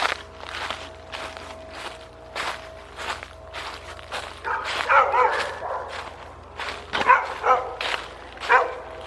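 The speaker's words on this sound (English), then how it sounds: "there's the dogs barking" Dogs bark in the distance, a few scattered yips and woofs, while footsteps crunch steadily nearby on leaves or ground on a late walk through Georgia woods.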